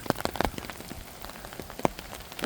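Rain drums on an umbrella held outdoors near a muddy construction site, a steady close patter with a few louder single drops standing out.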